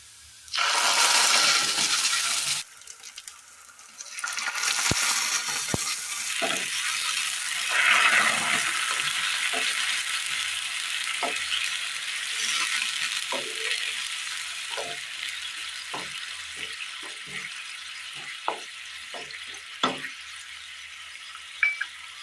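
A loud hissing sizzle erupts as ground spice paste hits onions in a pan and settles into steady frying, punctuated by repeated scraping clinks of a spoon stirring.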